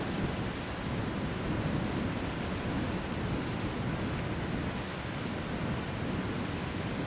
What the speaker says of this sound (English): Good idea of the wind in the background, making life difficult out there today.